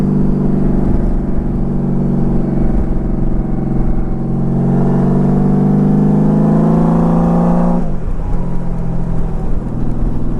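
A Honda Valkyrie motorcycle's six-cylinder boxer engine revs hard in a loud, smooth, rising drone that climbs steadily, drops sharply near the end, then settles back to a throbbing idle, close by with no talk.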